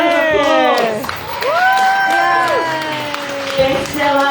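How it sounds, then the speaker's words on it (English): Crowd at a book launch for a women's memoir and personal transformation title, applauding and cheering with whoops, mixed with voices and shouts, lively and close throughout. "Give us a round of applause."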